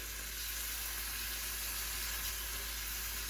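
Apple cider vinegar sizzles loudly and steadily in a hot pan as the base for a sausage gravy. The hiss is continuous and close, with no voices.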